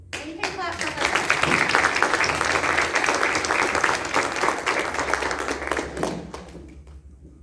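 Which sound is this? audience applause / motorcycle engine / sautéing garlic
audience applause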